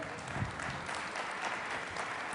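Steady applause from a debate audience, dense and continuous at moderate loudness, with a faint voice briefly underneath.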